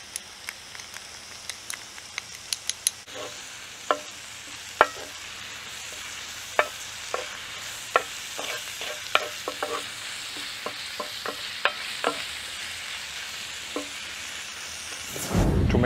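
Beans and onions fry in a Dutch oven, a soft steady sizzle punctuated by frequent sharp scrapes and clacks of stirring, close up with no voices, ending in a louder rush.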